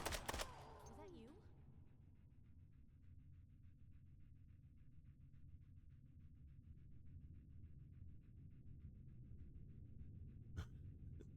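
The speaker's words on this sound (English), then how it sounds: "I got this dog panting in my ear." A dog pants in the video game Fallout 4, a rapid, steady rhythm of close breaths continuing throughout, after a burst of loud gunfire at the start and a sharp bang near the end.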